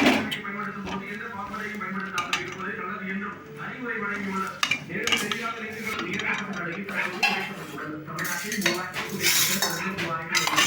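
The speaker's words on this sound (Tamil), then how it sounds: "நல்லா கிண்டி விடணும். பாருங்கள், நல்லா கிண்டி விட்டுருக்கோம்." A utensil stirs noodles in a metal pan in a home kitchen, giving continuous close clattering and scraping of metal on metal, with a voice talking over it.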